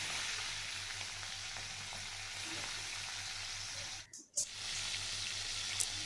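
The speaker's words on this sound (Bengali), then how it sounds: "তো মাছগুলোকে একটা একটা করে ভালোভাবে ভেজে নেব।" Fish pieces sizzle steadily as they fry in hot oil in a wok, a loud continuous crackle that breaks off briefly for a moment before resuming.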